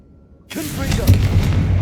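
Confringo blasting spell in Hogwarts Legacy, a sudden loud explosive burst after brief quiet, followed by sustained rumbling booms.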